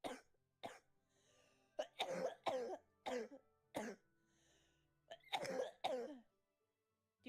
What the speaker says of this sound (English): Do you hear that cough?